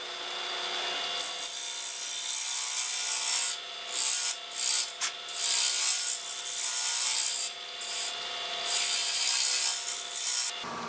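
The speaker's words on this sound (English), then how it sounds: "I'm trying to give you a little bit better view head on into the hollowing process for the bottom of my box." Burl wood box being hollowed on a lathe, a steady close scraping and rubbing of the cutting tool against the spinning wood throughout, with brief dips and surges as the tool catches and lifts.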